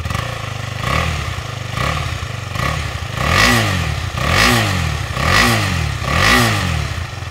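A KTM 250 Adventure motorcycle engine revs repeatedly in loud, rising bursts, about six or seven blips in a steady rhythm, each climbing in pitch and then dropping back, with a mechanical clatter underneath.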